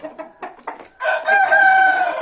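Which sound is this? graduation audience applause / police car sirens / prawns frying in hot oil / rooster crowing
rooster crowing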